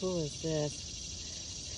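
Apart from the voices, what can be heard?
cicadas calling in the background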